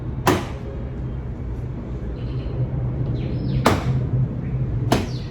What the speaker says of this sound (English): you're gonna pry off the panel from the trim here that goes at the bottom of the window